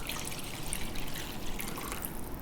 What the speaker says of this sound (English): Now in the same pan, I'm going to add some water.